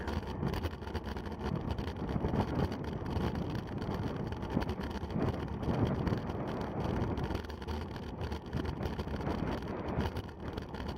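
Wind roars and buffets against the microphone of a rider in a Cat 5 bicycle criterium race in Louisville. The gusting, rumbling rush is constant and loud throughout, with no voices.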